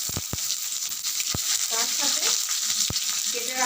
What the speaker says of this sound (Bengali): দুটো লবঙ্গ একটা দালচিনি আর একটা তেজপাতা এগুলো সব আমি ফোড়নে দিয়ে দিলাম ওটা একটু ভাজা ভাজা হলে